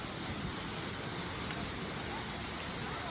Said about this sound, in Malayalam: അവിടെ ഒരു അടിപൊളി ഒരു വെള്ളച്ചാട്ടം ഉണ്ട്